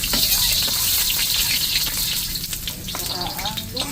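Garlic and onion sizzle steadily in a hot kawali while mussel tinola is being cooked, a loud, continuous frying hiss with small crackles that lasts throughout.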